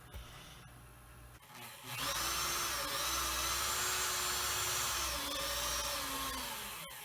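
A 5/8 Forstner bit bores into wood while an antique Sheraton chest of drawers is restored, giving a steady, high-pitched drill whine. The whine rises after a quiet start, holds for about five seconds and then tapers off.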